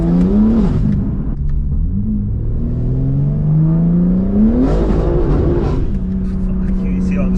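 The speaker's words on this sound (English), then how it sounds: "you get the overrun, it just sounds like a total different car." Tuned 721 bhp rear-wheel-drive BMW G80 M3 with Velocity Stage 2 tune and open exhaust valves, engine note rising steadily under load then crackling on overrun, loud and close throughout.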